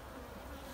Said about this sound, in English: Look at the bees right there.